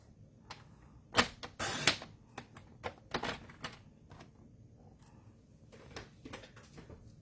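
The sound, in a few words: paper trimmer cutting cardstock to 5 inches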